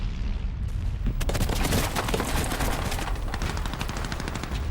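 A World War 1 battlefield barrage at the Somme in 1916: a brief quiet opening gives way to dense, continuous gunfire and rapid machine gun bursts layered over booming artillery, loud and sustained throughout.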